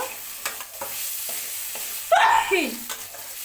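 Washed flattened rice (chira) is fried and stirred in a pan for chirer polao, with soft scraping strokes and one louder, sweeping stir near the end, close by and with no talking.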